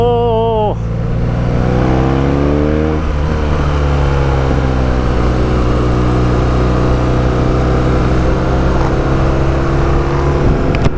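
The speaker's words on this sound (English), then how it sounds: "there's some fruity noises coming out of that Jag. He's opened up his second exhaust" Throaty exhaust of a Jaguar F-Type sports car with its second exhaust valve opened, driven on an Alpine mountain pass: a loud, sustained engine drone that rises in pitch through the gears, heard from nearby without speech.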